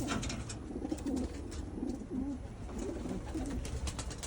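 Pigeons cooing in a loft, soft repeated low coos layered over a steady background of shuffling and rustle, fairly close and continuous.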